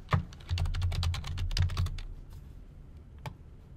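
A computer keyboard typed on in a quick burst of crisp, close key clicks, then tapering off to a single isolated keystroke near the end.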